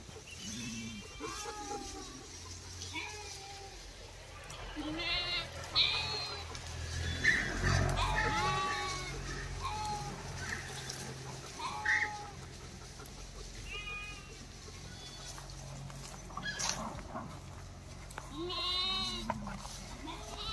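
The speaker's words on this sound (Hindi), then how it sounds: "भेड़ देख रही है लियो को" Sheep bleat repeatedly on a farm, several calls near and far scattered across a busy background with people talking throughout.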